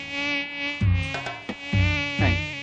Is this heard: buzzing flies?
yes